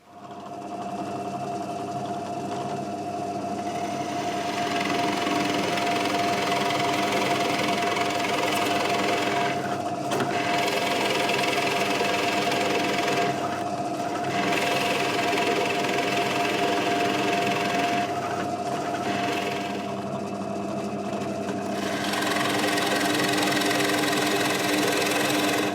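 A router hogs material out of a custom bass guitar body in a workshop, a loud steady high-pitched machine whine that runs continuously with a few brief dips as the cut changes.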